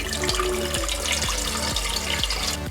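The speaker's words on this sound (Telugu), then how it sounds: "ఇలా బాండీలో వాటర్ పోసుకోవాలి" A steady stream of water pours into a metal wok for boiling rice, a continuous splashing fill with a pulsing, gurgling rhythm, heard close up with no voices.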